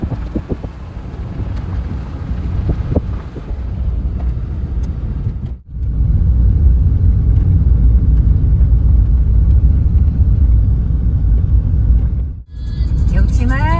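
Car driving along a road as part of a wedding convoy, with steady engine and road rumble plus buffeting wind noise throughout, briefly dropping out twice, and people talking faintly inside the vehicle.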